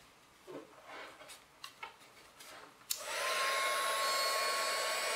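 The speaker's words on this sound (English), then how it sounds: "Let me turn on the heat gun." Heat gun powered from a PowerOak PS5 portable power station, switched on after a few faint clicks and handling sounds, then a steady, fairly close blowing rush with a thin electric whine.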